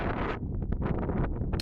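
Wind buffets a camera microphone outdoors on a hill walk, a loud continuous roaring rumble with gusty fluctuations throughout.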